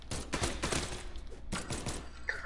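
Rapid gunfire in the fighting game Brawlhalla, a dense rattling burst of shots for about a second, a short pause, then another burst, fairly loud and close.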